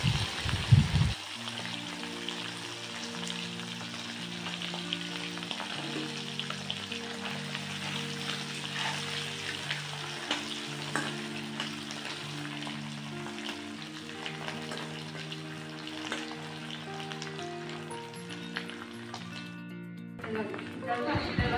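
Dried shutki fish fries in a pan, a continuous soft sizzle and crackle under a steady hum of background music, with brief clatters at the start and end.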